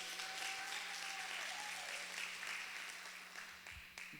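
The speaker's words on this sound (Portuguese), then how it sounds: "dê uma salva de palmas a Jesus" Church congregation clapping in praise during a sermon, a continuous wash of applause with a faint sustained tone underneath and no speech.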